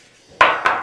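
A previously painted metal pan used for marbling being set down and handled, two sharp close clanks about a quarter second apart, with a short rattling decay after each.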